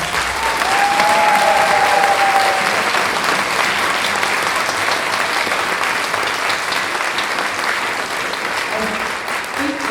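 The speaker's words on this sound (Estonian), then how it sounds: "Ma arvan, et sa oled väärt veel ühte suurt aplausi ainuüksi selle kontserti." Concert audience at an anniversary concert applauding the orchestra, a dense, sustained wash of clapping that stays loud and even throughout, with a brief whistle or cheer early on.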